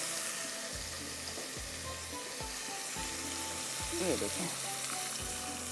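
Onions and tomatoes cooking in a pot with a little water for a chicken soup, a steady soft sizzle and bubbling with light stirring knocks; a voice speaks briefly.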